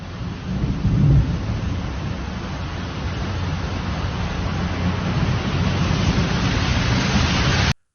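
Steady heavy rain roars through a thunderstorm in Jeddah, a dense continuous wash with a low rumble of thunder swelling early on, loud and close, with no voices.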